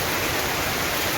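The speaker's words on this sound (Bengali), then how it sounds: "এখন বৃষ্টি শুরু হয়ে গেছে" Rain driven by strong wind pours over open village fields, heard as a loud, dense, unbroken roar of hiss and rush with no voices.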